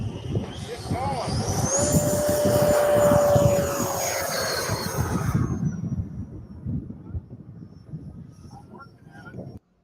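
An RC model airplane flies past with a high, whining engine note that rises, bends in pitch as it passes and fades into the distance, with people talking faintly at the field.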